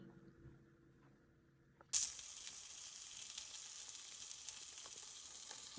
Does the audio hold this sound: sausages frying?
yes